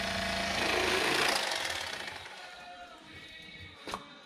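A cordless electric fillet knife buzzes steadily as its blade saws through a crappie fillet, a loud, even motor whine that fades slightly toward the end, with a brief knock near the close.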